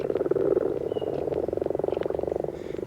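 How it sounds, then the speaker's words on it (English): Many frogs croak together in a steady, rapid pulsing chorus, continuous and fairly loud throughout with no talking. "they were greeted by a chorus of croaks"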